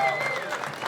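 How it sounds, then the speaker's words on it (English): Brief burst of applause from onlookers at a vehicle extrication rescue challenge, clapping for a fire department auto extrication team, loud and dense with some crowd noise mixed in. "A round of applause."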